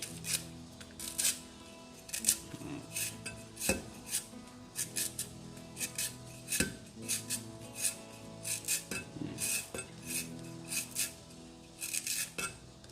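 Chili, lemongrass and garlic pounded in a mortar for a Isan-style catfish curry, a steady series of sharp knocks and thuds at an uneven rhythm, with faint background noise and no talk.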